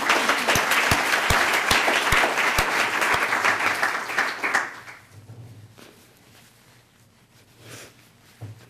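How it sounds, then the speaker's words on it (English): Audience applause at a speech, loud sustained clapping for about four and a half seconds that then fades out, leaving a quiet room with faint scattered sounds. "We should give her an applause."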